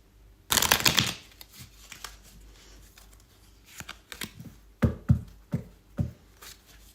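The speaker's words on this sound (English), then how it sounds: "Let me shuffle these cards." Tarot confession cards being shuffled by hand, a loud riffling burst near the start followed by softer intermittent card slaps and shuffles at close range, with no talking.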